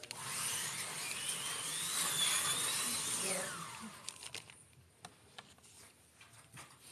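Slot cars with 25,000 RPM motors race on a raceway track, a high whining buzz rising and sweeping for about four seconds before cutting out, leaving scattered clicks and faint rattles.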